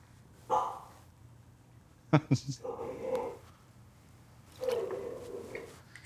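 A dog barks and yips a few times in a home kitchen, fairly close, while someone talks over and around the barks.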